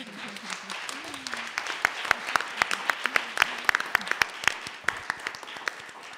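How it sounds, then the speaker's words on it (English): An audience at a university museum forum panel gives a round of applause, with sharp individual claps standing out over a steady wash of clapping. "let's just give everybody a round of applause."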